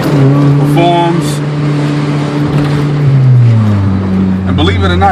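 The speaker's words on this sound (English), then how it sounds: "this motor has the 3 characteristics that you want of any car that you're putting together." A car fitted with a B-series engine runs with a loud, steady drone whose pitch sags and then lifts, heard beneath someone talking continuously.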